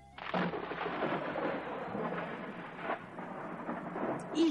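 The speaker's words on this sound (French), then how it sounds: "Il y eut un coup de tonnerre" A rolling thunderclap rumbles through a spoken Christmas story, a sustained broad roar starting abruptly and fading unevenly over several seconds.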